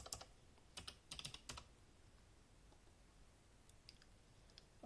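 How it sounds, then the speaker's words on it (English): Fingers type a username and password on a computer keyboard in a quiet room: a quick burst of soft key clicks, a short pause, another cluster of taps, then a few faint scattered keystrokes, close and light. "Let me type it again."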